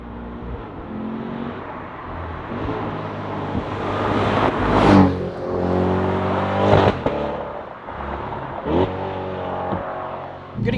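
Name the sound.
Chevrolet C8 Corvette with DCT accelerating under throttle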